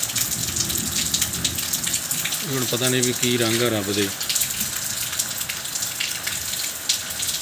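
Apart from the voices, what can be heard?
rain falling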